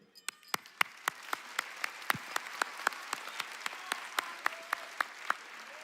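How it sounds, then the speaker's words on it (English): At a high school graduation, sharp, distinct hand claps ring out at a quick, fairly regular pace over a low room hum. They sound like a smaller group clapping rather than a dense roar, with a few louder claps standing out. "I'd like to start off by giving a big round of applause to both the students who have come this far and the parents who have supported them along the way."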